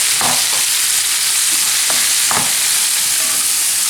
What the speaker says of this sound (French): Et je laisse mes crevettes revenir à feu moyen